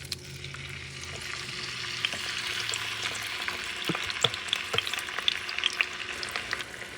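Tomatoes sauté in a hot pan, a steady broadband sizzle running throughout with occasional sharp spatters and pops growing more frequent toward the end; no voices.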